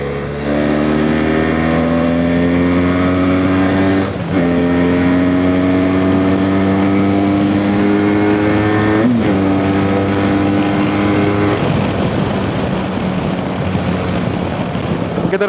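A Benelli TRK 502 motorcycle engine revs hard and accelerates up through the gears, pitch climbing in long sweeps with two brief dips at the shifts. It stays loud and close throughout, with no talking.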